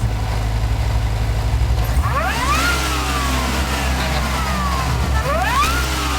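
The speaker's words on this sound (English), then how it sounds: "It's the Eaton M122 blown LS2 engine." A deep supercharged V8 car engine, an Eaton M122-blown LS2 in a Holden, idles with a low rumble, then revs hard twice, the pitch climbing and falling with each throttle blip.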